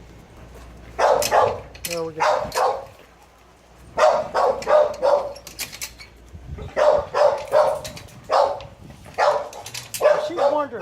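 Recorded dogs barking, played to a fearful dog during a fear-aggression session, come as repeated barks and yips in clusters with brief pauses, loud and close, and someone speaks briefly between them.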